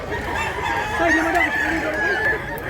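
A white rooster sold as a mountain-hardy fowl crows loudly close by, one drawn-out crow with a wavering tone, over a busy background.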